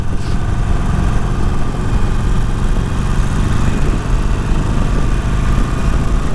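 A 48 motorcycle rumbles along a canyon road, its engine a loud, steady low drone with wind rush and no change in pitch across the whole stretch.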